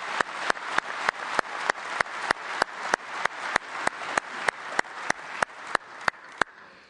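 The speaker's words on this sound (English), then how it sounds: "Could we get another big round of applause for the IFD singers," A large audience at a fire service conference's opening general session applauds singers and bagpipers, a continuous broadband roar of clapping marked by evenly spaced sharp clicks, cutting off just before the end.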